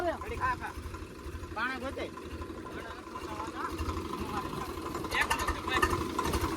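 A tractor engine with water gotten inside runs at a low, steady idle beneath frequent nearby conversation between several people.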